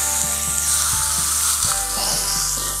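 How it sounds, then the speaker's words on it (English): Steak sizzles loudly on an electric contact grill, a dense, steady frying hiss that fills the short stretch close up, with faint clinks underneath and no talking. "So now we show you how to grill this steak."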